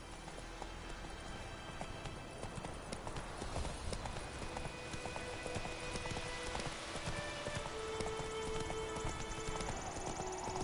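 Horse hooves clip-clop steadily at a walking pace throughout, moderately close, over ambient outdoor background in The Witcher 3 next-gen, with no talk in the clip.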